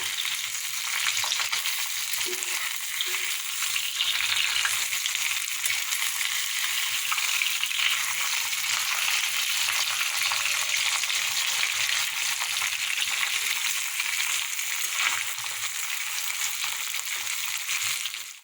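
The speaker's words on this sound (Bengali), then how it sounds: "মাছগুলো আগে ভেজে নিই।" Khoira fish sizzles steadily in hot oil in a kadai, a constant crackling hiss with a couple of faint clinks, no voices.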